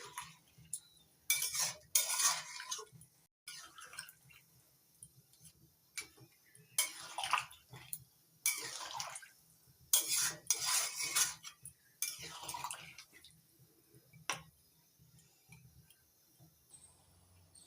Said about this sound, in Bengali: এবার নাড়াচাড়া করে ভালো করে মিশিয়ে নিচ্ছি।